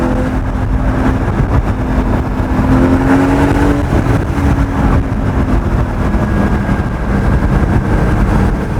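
A Porsche GT4 on the Furka Pass mountain road, its engine drone loud and steady from inside the car as it pulls through the gears, pitch rising in shifting tones with no talk over it.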